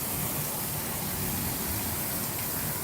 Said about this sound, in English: I say waterfalls, I meant fountains and things like that here.